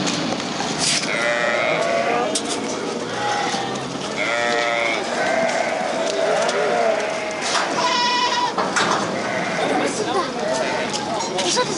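Sheep at a Riyadh sheep market, sold for Eid, bleat repeatedly and nearby in a crowded pen, their wavering calls overlapping under ongoing chatter from people.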